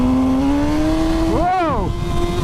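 A Suzuki GSX-S1000 motorcycle, about 150 bhp with traction control on its lowest setting, revs up hard at full throttle, the engine note climbing loud and close before a quick shift and renewed pull.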